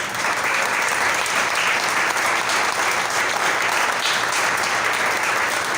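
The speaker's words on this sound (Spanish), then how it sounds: "bríndele un fuerte aplauso a Dios por eso." A church congregation claps loudly and steadily for God during a sermon, a dense, continuous wash of hand claps filling the whole moment with no speech over it.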